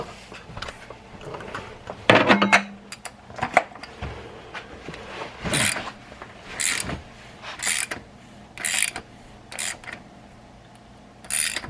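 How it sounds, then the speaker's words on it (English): Wrench work loosening the oil filter housing on a BMW F10 M5 during an oil change: irregular ratcheting clicks and metallic creaks in short bursts, fairly close, with no talking. "I'm going to go ahead and loosen the filter housing"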